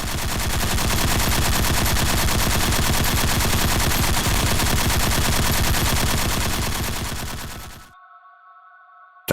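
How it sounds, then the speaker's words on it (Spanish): Vickers machine guns fire in one long, loud, continuous burst of rapid shots for about eight seconds, then stop abruptly, leaving a faint ringing tone. "comenzaron a disparar fuertes ráfagas de munición de alto calibre de varias ametralladoras Vickers"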